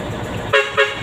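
Air horn of a tractor head truck with an 8DC9 twin turbo engine, two short loud honks close by after a steady engine idle.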